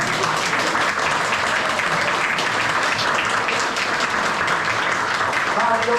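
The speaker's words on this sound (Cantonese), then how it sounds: "我都想請大家咧送上最熱烈嘅掌聲咧，俾一個靈魂嘅人物啦" An audience in a Hong Kong venue applauds a retired teacher with sustained, dense clapping that stays loud and even throughout.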